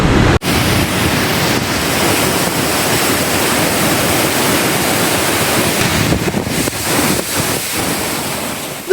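Heavy waterfall at Norway's Stegastein area pouring down a long drop into a river, a dense steady roar of rushing water that fills the whole stretch, loud and continuous with slight gusty wind buffeting.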